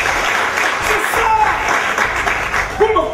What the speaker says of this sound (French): Applaudissez pour vous-même, s'il vous plaît.